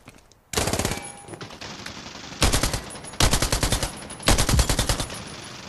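Automatic gunfire from a gun in a battle royale video game, several rapid bursts of loud close shots separated by short pauses, with no talking.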